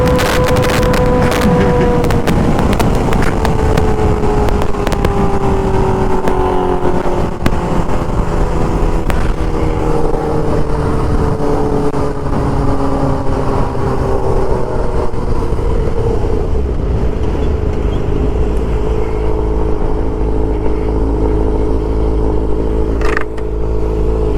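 Motorcycle engine revving hard on a city street, a loud sustained roar with rising and falling pitch sweeps as the throttle is worked and gears shift, close to the rider with wind noise and no talk.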